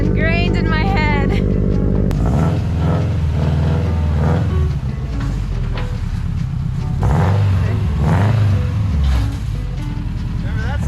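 A Subaru STi engine runs close by with a deep burbling rumble, revving up and down in several swells after a brief high, tonal whine at the start.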